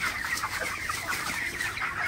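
Broiler chickens cluck continuously on a farm, a dense close chorus of short overlapping calls with no talking.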